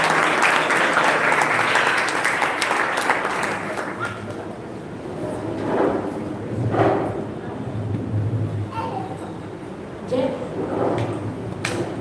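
Hall audience at a school poetry event applauds to welcome the host, a dense burst of clapping that fades after a few seconds into scattered thumps and murmuring voices.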